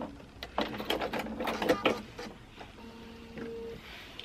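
A sewing machine runs in short bursts while back stitching a 1/4 inch quilt seam, then falls quiet apart from a faint steady hum.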